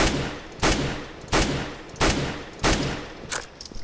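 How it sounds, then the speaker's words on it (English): Single tapped rifle shots fired at a wall in Counter-Strike: Global Offensive, five loud, sharp cracks spaced at a steady pace of roughly one every 0.7 seconds, each with a short decaying tail and no talking. "So just sit here and start tapping your bullet like this."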